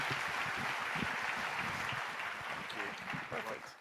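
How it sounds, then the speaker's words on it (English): Audience applause fills a workshop room on telling personal stories, a dense, steady wash of clapping that holds at full strength for several seconds before easing slightly at the end, with a voice faintly underneath. "Keep the applause going now"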